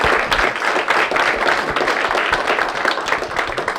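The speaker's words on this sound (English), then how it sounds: "join me in a round of applause for Roman and the work he's done for us in the legislature" A crowd at a legislative launch event in Morgantown, West Virginia, applauds Roman for his work in the legislature. The many hands clap loud and close in a thick, continuous patter from start to finish.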